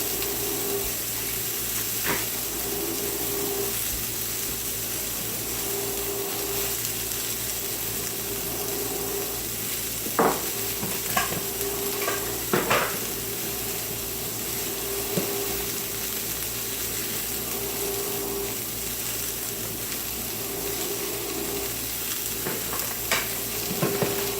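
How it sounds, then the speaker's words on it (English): Quiet, steady sizzling from a frying pan of celery, with a few clinks of a utensil stirring now and then. "The sizzle dies down to very nearly nothing."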